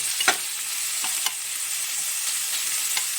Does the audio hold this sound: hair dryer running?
no